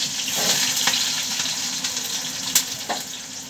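Chopped onions frying in oil with green chillies, a steady close crackling sizzle with a few soft stirring knocks and scrapes.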